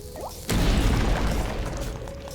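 A bomb going off on a bombable spot in Link's Awakening (2019): one sudden loud blast after a short quiet lead-in, followed by a rumbling decay of debris that fades slowly.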